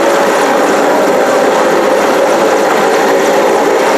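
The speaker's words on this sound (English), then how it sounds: "the Mi-17 helicopter of the Ghana Air Force" Steady, loud rotor and engine drone of a Ghana Air Force Mi-17 helicopter at an Independence Day military display, continuous and unbroken, with a broad whooshing roar and no talking.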